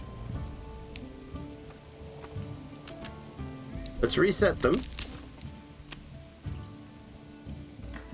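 Rain falling in the video game Manor Lords, a soft steady patter behind someone talking, with a brief louder burst of sound midway.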